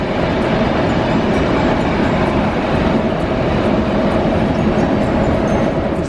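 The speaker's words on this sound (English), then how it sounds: "So this is the train that we've just caught from Sofia, and it's departing for Varna." Steady, loud rumble of a train departing Sofia station, a continuous rolling roar with a low hum and no pauses or voices.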